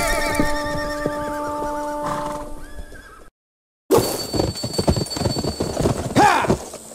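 Galloping horse hooves clip-clop steadily under a rider's shouts in the Western action video game Gun, with whinnies breaking in, a brief silent gap, then hard riding resuming loud and close.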